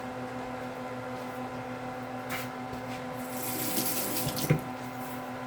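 A kitchen tap runs steadily into a sink while chicken feet are washed for adobo, with a low constant water hiss and brief splashes and clatters toward the end.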